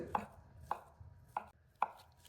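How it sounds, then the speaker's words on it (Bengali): Boiled potatoes being chopped on a board for a potato chaat, four crisp, evenly spaced knife strikes sounding close and clear with no voices. "ব্যাস আলুগুলো কাটা শেষ"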